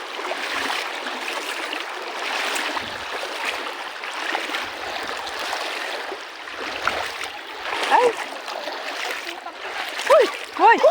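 Splashing in a cold river stream while people bathe, with steady flowing water and intermittent splashes growing louder toward the end, voices calling and chattering over it.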